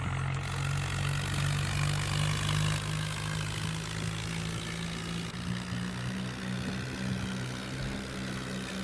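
A tractor engine strains under a heavy load, a loud, steady low drone with a firm throbbing hum that wavers slightly as it labours on, heard alone without voices.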